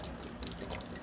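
Water trickles and splashes steadily from the drain of an RV water heater with its valve closed, a brief close, continuous flow with small drip-like bursts and no talk.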